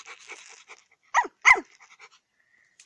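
A cartoon dog gives two short, sharp bark-like yelps close up after some faint chatter, followed by quiet panting-like breaths in a brief animated scene.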